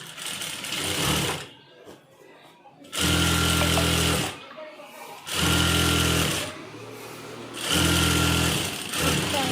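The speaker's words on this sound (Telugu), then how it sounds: "ఇప్పుడు ఇటు సైడ్ కూడా ఒక స్టిచ్ పెట్టేస్తాను" A sewing machine stitching a seam in cloth runs in three loud, steady bursts separated by pauses, with a voice speaking quietly in the gaps.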